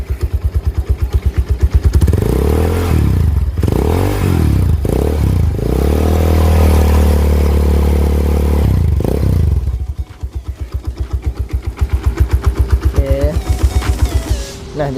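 Loud, deep exhaust of a modified Honda Tiger motorcycle with an aftermarket bass-heavy pipe, blipped through a string of close revs that rise and fall, then held at a steady rumbling idle and revved again.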